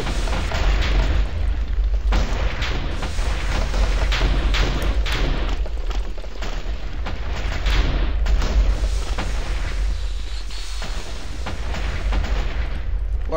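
Dense, continuous barrage of booming TNT explosions in Minecraft, loud and close, with blasts overlapping one another for the whole stretch.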